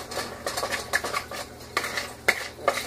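A spoon stirs a sourdough mixture with sugar in a bowl, producing repeated clinks and scrapes against the bowl in uneven bursts, close and alone without speech.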